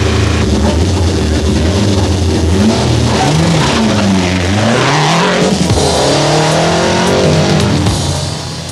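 A factory rally car on the 1987 Tour de Corse accelerates hard nearby, its engine rising through the revs and shifting, loud and continuous, then easing slightly at the end.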